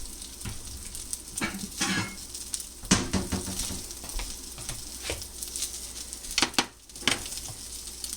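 An egg fries in a cast iron pan with a steady, close sizzle, broken by scattered pops and spatters and an occasional clink of a utensil against the pan.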